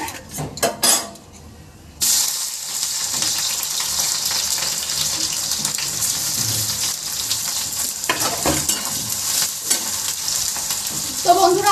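Chow mein stir-fried in a pan gives a steady loud sizzle with scraping and clinks of a utensil against the pan, after a few opening knocks and a short quieter gap, with no talking.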